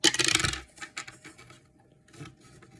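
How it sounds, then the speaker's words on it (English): Dice thrown onto a surface, a quick burst of clattering at the start followed by a few lighter rattling bounces as they settle, close and alone. "I'm going to throw this dice."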